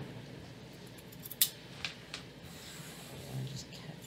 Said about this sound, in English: Let's go through and cut these strings off that are bugging us.